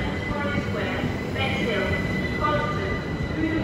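Class 375 electric train moving slowly out of sidings at Ashford International, a continuous rumble of wheels and motors nearby with faint squeal tones and people talking in the background.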